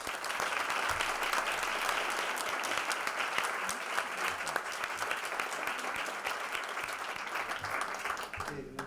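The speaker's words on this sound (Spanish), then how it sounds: "quiero que lo recibamos con un fortísimo aplauso" Sustained, loud audience applause welcoming a speaker at a university lecture on the ecosocial crisis, a steady dense wash of clapping that holds for nearly nine seconds before cutting off.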